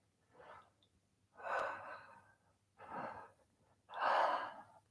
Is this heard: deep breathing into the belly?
yes